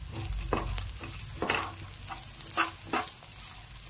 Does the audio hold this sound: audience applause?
no